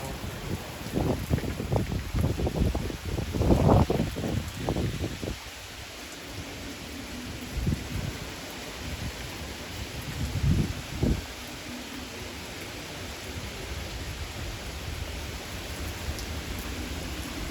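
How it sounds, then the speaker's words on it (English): Rain pours down hard in a gusty thunderstorm, with blustery wind bursts and rustling in the first few seconds, then a steady hiss of downpour continuing at moderate level for the rest. "Now the winds are starting to really blow. The rain is really coming down now."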